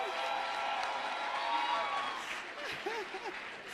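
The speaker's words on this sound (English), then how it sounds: "A round of applause for our panelists once again." An audience at a youth entrepreneurship and empowerment event applauds the panelists, a steady wash of clapping heard at a distance with a few faint cheers near the end.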